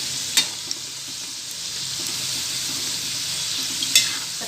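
Modak deep-frying in hot oil until golden, a dense continuous bubbling sizzle close by with a couple of brief clicks near the start and end, no voices.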